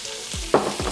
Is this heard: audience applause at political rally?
no